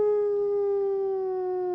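A wolf gives a single long, steady, loud howl close by, a clear sustained tone that slowly sinks in pitch over about two seconds with no other sounds.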